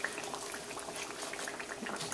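Spiced battered eggplant pieces frying in hot oil in a fryer, a steady dense sizzle and bubbling that holds at an even level throughout with no talking.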